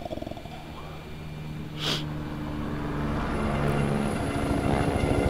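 Helicopter in the video game The Division 2, a low rotor drone that swells gradually louder over a few seconds, with a brief whoosh near the start.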